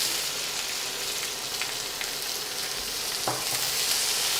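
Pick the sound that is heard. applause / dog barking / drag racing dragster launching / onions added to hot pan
onions added to hot pan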